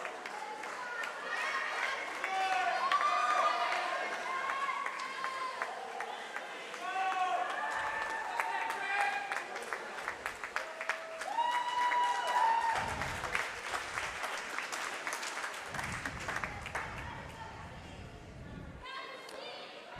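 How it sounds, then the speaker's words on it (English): Spectators at a high school varsity swim meet cheer and clap for a teammate in an echoing pool hall, with bursts of shouting and scattered applause rising and falling, an announcer's voice over the crowd, and a few thuds near the end. "Franklin faithful cheering on their teammate"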